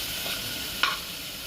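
Curry leaves and onions sizzling in hot tempering oil for Gujarati dal fry, a steady soft hiss with one brief sharper crackle partway through, no voices.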